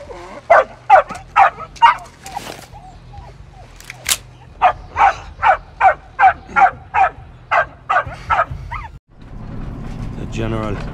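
A dog barks in rapid rhythmic bursts, loud and close, with a few sharper yelps and a break partway through, set in a tense wartime action scene; other noise takes over at the end.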